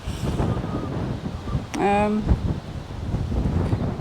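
Gusty wind buffets close to the microphone in low rumbling bursts over a grazed pasture, with a brief tonal whine cutting through partway.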